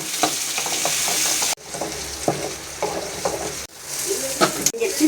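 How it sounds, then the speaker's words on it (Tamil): Half an onion and tomato sautéing in hot oil, a loud continuous sizzle broken by scraping stirs of a spoon against the pan, with two brief cuts in the sound. "இப்போ கொஞ்சமாக ஒரு அரை வெங்காயம் போட்டுக்கலாம். தக்காளி கொஞ்சமாக இப்போ நல்லா வதக்கும்."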